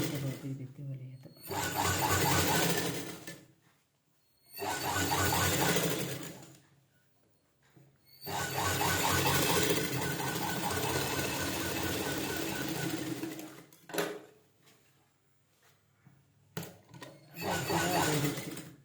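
A sewing machine stitches a lined blouse sleeve in several bursts of rapid rhythmic whirring and clatter, close, separated by pauses and handling noises, with a person talking between bursts.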